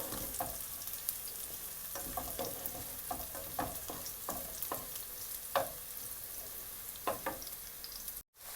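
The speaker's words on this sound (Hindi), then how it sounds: "इसमें मैंने 5 से 6 टेबलस्पून कुकिंग ऑयल के डाले हैं और लहसुन को हम थोड़ा फ्राई कर लेंगे, सौते कर लेंगे।" Steady sizzle of garlic frying in cooking oil in a pan, with occasional scraping stirs and light utensil taps, close and fairly quiet, no talking.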